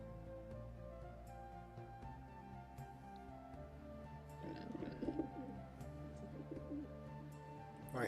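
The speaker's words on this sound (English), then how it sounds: "I hear pigeons." Pigeons coo softly in the Skyrim game world, near Dragon Bridge, with low repeated coos over a quiet ambient bed and a few faint ticks, with no talking.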